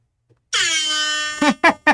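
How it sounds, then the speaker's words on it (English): An air horn sound effect blasts from an iPhone speaker: one long loud sustained honk followed by two short sharp blasts, heard alone with no talk. "I've got a fever, and the only thing that will cure it is more air horn on Steven's iPhone."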